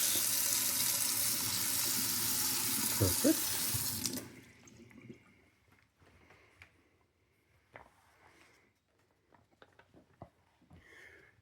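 Water gushes loudly from a kitchen faucet into a sink for about four seconds, then shuts off, leaving quiet room sounds and a brief spoken word.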